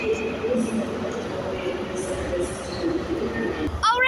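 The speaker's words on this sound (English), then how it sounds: "Departing out now is the 1507 ScotRail service to Inverness, starting here at Glasgow Queen Street, works by HST." ScotRail HST train departing Glasgow Queen Street on the 15:07 service to Inverness, a low rumbling engine drone through the station under a person talking, ending in a brief sharp high tone.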